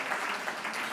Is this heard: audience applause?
yes